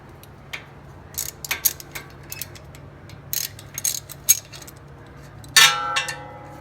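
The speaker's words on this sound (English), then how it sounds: "Take the 14mm here to loosen up the caliper." Wrench work on a front brake caliper bolt of a 2011–2015 Honda Odyssey EX-L: scattered clicking, ratcheting and metallic clinks in short bursts, ending in a louder scraping clank, with no talk.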